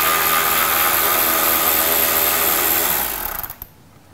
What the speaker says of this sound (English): Of course, I'm gonna use my electric ratchet.